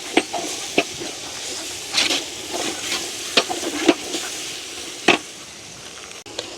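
Squid biryani masala with mint is stirred in a pot, a steady sizzle broken by repeated scraping strokes and spoon knocks at uneven intervals, close and clear.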